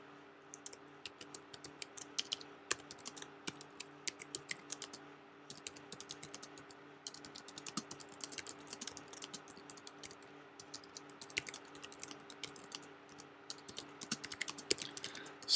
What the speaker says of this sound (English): I'm sorry for the typing noises too.